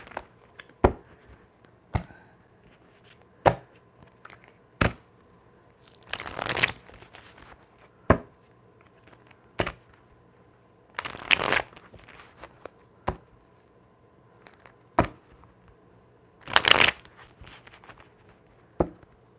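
A deck of cards being shuffled in several quick bursts, crisp riffling flurries separated by sharp clicks and taps, fairly close with no talking.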